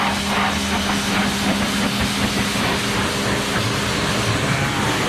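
Steady broadband hiss of a pressure washer spraying a dirty 1965 Mercury Montclair during its first wash in 16 years, continuous and close with a low pump drone underneath, no voices.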